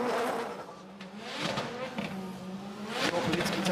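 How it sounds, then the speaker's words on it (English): A BMW 2 Series drift car with anti-lag revs hard off the start line at a Drift Masters competition in Finland, its engine droning and rising in pitch in waves, moderately distant, with a commentator talking over it. "The anti-lag bangs from the back of the car as he comes off the line"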